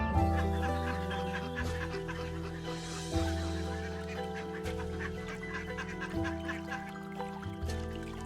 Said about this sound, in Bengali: প্যাক প্যাক আওয়াজ তুলে পাখিটা যেন ভয় পেয়ে ঝোপে উড়ে না যায়